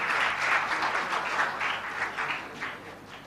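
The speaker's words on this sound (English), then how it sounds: "I think a big round of applause for all of them." Audience applause fills the room, a dense, fairly close burst of many hands clapping that gradually eases and thins toward the end, with no speech over it.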